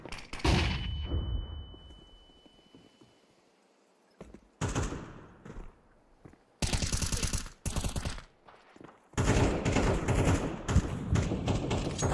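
Counter-Strike 2 gameplay with a flashbang grenade thrown, followed by bursts of loud gunfire and thuds in several separate volleys broken by short quiet gaps.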